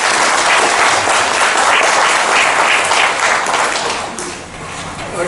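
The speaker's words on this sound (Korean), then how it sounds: "박수 한번 칩시다" An audience at a kidney-disability welfare symposium claps loudly and close, a thick, sustained roar of applause that eases slightly near the end before swelling again, with no one speaking.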